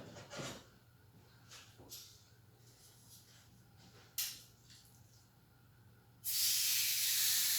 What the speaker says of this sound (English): that's the noise you want to hear when you put your steak on your griddle.